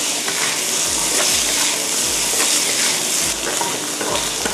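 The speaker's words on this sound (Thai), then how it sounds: "เราจะผัดให้ปลาเค็มนะคะ" Salted fish and vegetables are stir-fried in a pan for fried rice, giving a loud, continuous hiss of sizzling oil broken by the repeated scrape and clatter of a spatula against the pan, with no voices.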